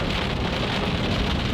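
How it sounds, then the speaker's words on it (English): Hail falls in a dense, unbroken hiss and patter, close and fairly loud, with no gaps or voices. "But this is hail."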